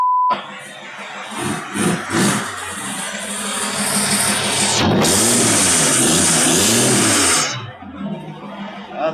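Volvo 240 with a V6 engine revving, a rough, loud engine note that swells to a sustained high rev and then drops back toward idle, with a voice speaking briefly beneath it.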